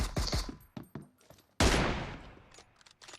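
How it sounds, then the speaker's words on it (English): Gunfire in a PC shooter game comes as a few quick, sharp shots, then one louder blast that rings out and fades, heard close and without talk. "Eighth shot, ninth shot, 10th shot"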